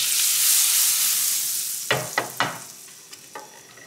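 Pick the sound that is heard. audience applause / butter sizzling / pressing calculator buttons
butter sizzling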